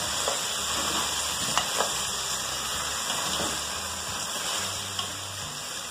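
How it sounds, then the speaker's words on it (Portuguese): Pork ribs fry in a pan over low heat, giving a steady, even sizzle throughout with a few faint scrapes and clicks as the meat is stirred. "Já começou a fritar."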